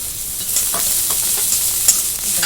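Shredded cabbage and spring onions sautéing in a hot pan, a loud, continuous sizzle with a few spatula scrapes and stirring knocks, close up and without any talk.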